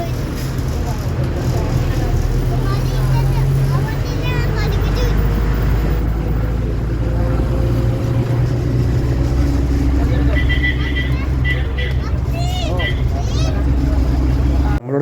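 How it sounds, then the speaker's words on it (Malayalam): Steady engine drone and road rumble fill the cabin of a moving bus travelling toward Kozhikode at speed, continuous and loud throughout, with people talking over it. "നമ്മളിവിടെ നിന്നൊരു ബസ്സിൽ കയറിയിട്ടുണ്ട് കേട്ടോ"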